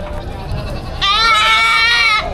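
A Boer goat at a livestock auction gives one loud, wavering bleat lasting about a second, heard up close over steady crowd and background chatter.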